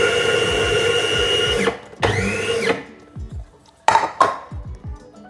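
A food processor pulses garlic, shallots and ginger in several short bursts, each a loud whirring spin that stops abruptly, followed by faint clatter between pulses.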